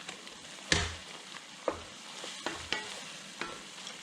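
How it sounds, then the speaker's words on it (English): Spoon stirring and scraping the bottom of a pan of sauce for pique a lo macho, a soft sizzle underneath with about five distinct scrapes at irregular intervals, close and fairly quiet. "Get this all mixed in, scraping the bottom to get all the wonderful fun"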